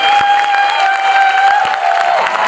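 Homeopathy doctors gathered at an event in Lucknow clap in scattered bursts beneath a sustained ringing tone, the applause sounding fairly loud and close.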